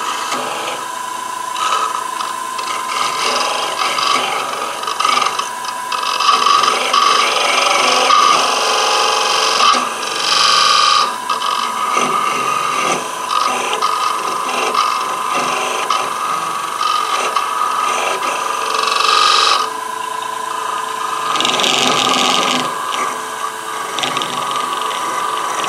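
A turned wooden scoop is cut free by hand while held in the other hand, producing a steady, loud rasping saw-like scrape that carries on for nearly half a minute, close by with brief pauses and no talking.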